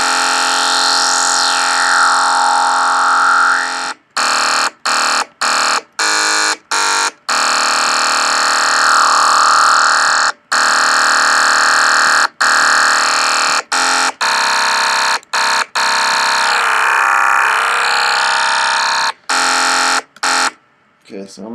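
An Ableton Operator synth bass with added high end, a bright, buzzy sustained tone that sweeps in pitch and is repeatedly cut by short gaps in a choppy rhythm, loud and close with no voices.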